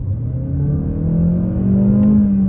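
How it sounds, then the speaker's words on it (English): A 2024 Mazda CX-5 engine revs up loudly and steadily while the car stays in place, its pitch rising, close and continuous with no voices. "We'll do a quick acceleration. You'll hear the engine gets quite loud"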